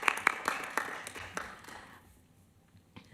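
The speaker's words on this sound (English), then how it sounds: "Give a round of applause for our two chiefs." A small audience at a Human Rights Commission meeting gives a brief, scattered round of clapping for two chiefs; a few sharp claps ring out near the start and thin away within about a second and a half, leaving a quiet room.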